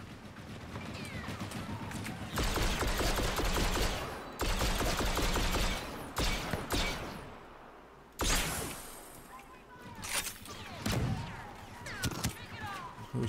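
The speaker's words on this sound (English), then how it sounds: "Who's shooting at me?" Bursts of automatic blaster and gunfire in Star Wars Battlefront II multiplayer combat, loud dense volleys coming in several waves with short gaps, alongside other game sounds.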